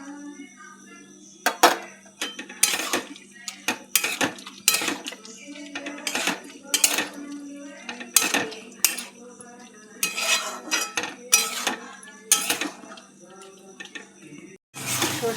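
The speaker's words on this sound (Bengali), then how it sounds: "এবার দিয়ে দেবো সর্ষে বাটা" Mustard paste stirred into a pot of boiled flat beans and potatoes, heard as repeated close clinks and scrapes of a spoon against the metal pot in an uneven rhythm, with faint voices at times.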